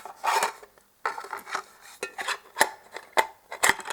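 A collapsible camping stove is folded up and packed away, giving a series of short metallic scrapes, rasps and clinks in irregular bursts. Brief pauses separate the bursts, and no one speaks.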